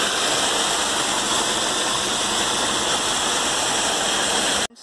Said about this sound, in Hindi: ये नेचुरल वाटरफॉल है फ्रेंड्स, ये देखिए, ये पहाड़ों से पानी रिसता है और ऐसे आता रहता है पानी